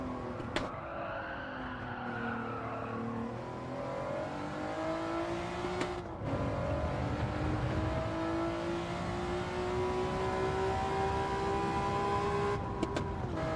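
GT3 race car engine in a racing video game revving high, a sustained rising and falling engine whine with clear harmonic tones, briefly cut off near the middle, with no talk over it.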